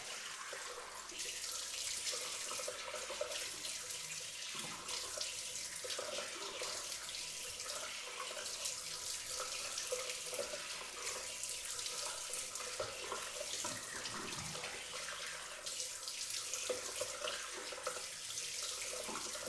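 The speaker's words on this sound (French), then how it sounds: "Donc d'abord je vais mouiller ma barbe." Water from a tap runs steadily into a sink while a beard is wetted, a soft continuous hiss of flow lasting throughout with small splashing variations and no speech.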